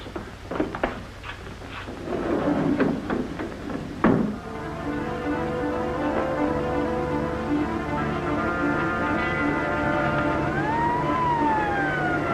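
Police car siren in an old radio drama, rising to a steady wailing tone that holds for several seconds, loud and close, after some brief clattering sounds at the start.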